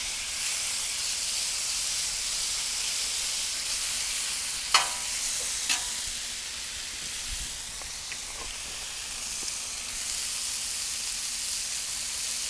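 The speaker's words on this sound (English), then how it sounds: "I like that sizzle." Sliced boneless, skinless chicken thighs sizzle steadily in a hot pan, a continuous broadband frying hiss with a few faint clicks and pops, no talking.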